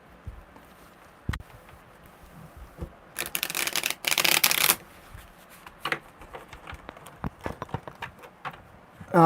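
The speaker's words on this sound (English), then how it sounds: "Alright, one more good shuffle." Cards riffle and slap together in a quick burst, surrounded by softer shuffling and tapping at close range.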